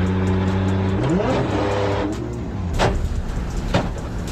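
Close, loud engine of a Japanese car fitted with a Nissan RB25 climbing through the revs with a rising whine, then dropping to a rough, throbbing idle with sharp pops.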